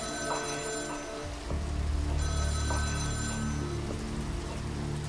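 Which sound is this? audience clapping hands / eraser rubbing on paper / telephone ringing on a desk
telephone ringing on a desk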